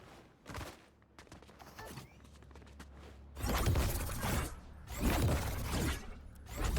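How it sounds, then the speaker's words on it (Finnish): Gunfire crackles in bursts within a Fortnite match, rough bursts of rapid shots separated by quieter stretches of game ambience, with no talk over them. "tuolla ammutaan jossain"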